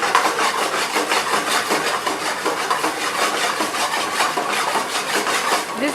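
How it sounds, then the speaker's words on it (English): Chicken lollipops are stirred through a thick Schezwan sauce in a pan, giving a close, rhythmic run of scraping and rubbing strokes that repeat quickly and evenly, with no voices. "stirring the lollipop into it very well"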